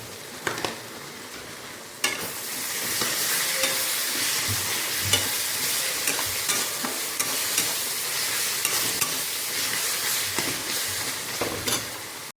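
Chili, garlic and ginger paste frying in a hot pan, with a steady close sizzle and the occasional scrape of stirring, going on without a break and with no voices.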